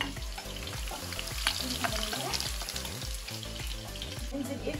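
Onion frying in a pan with a cinnamon stick and two bay leaves gives a steady, close sizzle that runs throughout, with a tonal musical bed underneath and no speech.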